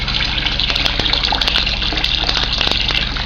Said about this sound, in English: water will start flowing out of this pipe